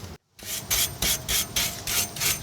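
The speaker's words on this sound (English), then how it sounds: "Just take a wire brush, kind of rub this crap off." A wire brush scrubs corrosion off the rear brake hub of a VW Tiguan in steady, loud rasping strokes, about eight back-and-forth passes after a brief pause, with no voices.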